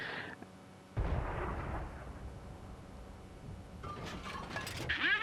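Artillery fire in the World of Tanks video game: a sudden heavy boom followed by a rumbling decay, then fainter clanks and game effects, fairly quiet overall.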